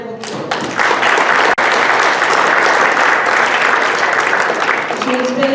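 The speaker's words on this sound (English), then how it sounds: "Let's give her a round of applause." Club meeting attendees applaud the chair of the Clark County Democratic Party, loud close clapping that swells after a brief voice and continues for several seconds before a voice returns.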